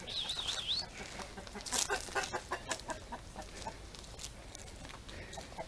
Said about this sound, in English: he's got chickens, roosters